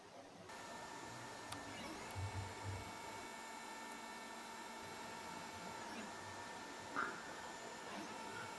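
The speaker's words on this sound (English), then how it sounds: "When it comes to a point where the Snapmaker is printing over an empty space" A Snapmaker 2.0 3D printer printing a case for circuits hums and whirs steadily with faint motor tones, a soft continuous mechanical drone with a brief higher chirp near the end and no speech.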